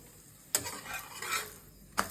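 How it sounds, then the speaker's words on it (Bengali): Paratha frying in a pan at home, a soft low sizzle broken by two sharp utensil knocks against the pan, quiet and close with no talk. "ওখানে পরোটা ভাজার প্রক্রিয়া চলছে।"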